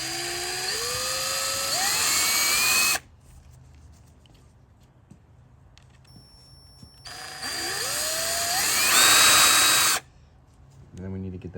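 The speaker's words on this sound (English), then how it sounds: "Drill it out a little further to 1/8." Small power drill with a 1/8 bit boring out a hole during a 2017 Honda Civic LED headlight modification, two loud rising whining bursts of a few seconds each separated by a quiet pause, with a short clatter at the end.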